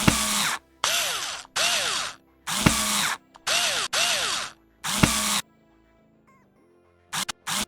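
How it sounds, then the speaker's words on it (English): A 10 mm wrench loosens the main mount bolts on an Alfa Romeo 159 rear window lifter, heard as close bursts of rapid ratcheting clicks separated by short pauses, with no one speaking. "Now, with a wrench for 10, I'm unscrewing the bolts of the main mount."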